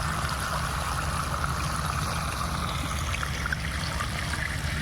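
Water running from a hose pipe fed by a pump motor, a steady gurgling trickle with a low continuous hum beneath, close and unbroken.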